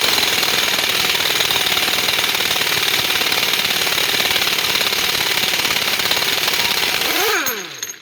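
An impact wrench with a 36 mm socket hammers a bolt loose during wheel hub bearing work on a 2007 Chevy Suburban. It gives a loud, steady, close-up rattling burst for about seven seconds, then winds down and stops.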